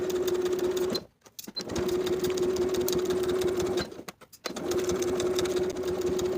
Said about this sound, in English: Sew from one bottom end of the collar stand along the top edge to the opposite bottom end